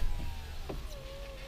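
An electric power window on a Ford Crown Victoria with 15% tint rolls down, a steady motor whine sliding lower in pitch over about a second and a half, close by inside the car at night.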